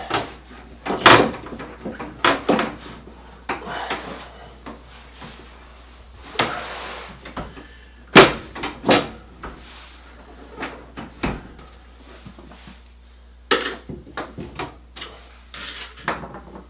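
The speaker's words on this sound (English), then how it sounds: "Tough part's getting the drawer into the slot." The drawer of an Electrolux dryer under repair is pushed and worked into its rails, giving repeated sharp knocks, scrapes and thumps at irregular intervals.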